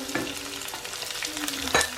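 Chopped onions frying in hot oil with curry leaves for a Travancore-style roasted coconut chicken curry, giving a steady close sizzle with a few louder stirring clatters near the end.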